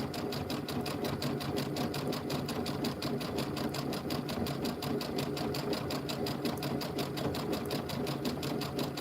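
A sewing machine stitching a holiday rope bowl runs at a steady, moderate pace, giving a continuous close mechanical whir with an even rapid rhythm.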